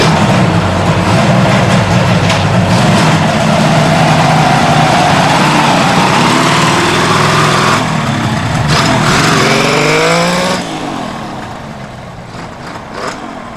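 A 1972 Kawasaki S2 motorcycle engine after a tune-up, running loud and buzzy, revving and pulling away on a ride before dropping off into the distance.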